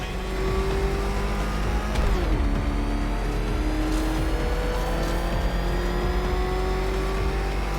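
The Batmobile engine in Batman: Arkham Knight roars loud and sustained, its pitch climbing and then dropping sharply around the two-second mark before holding a steady high drone, with no talk.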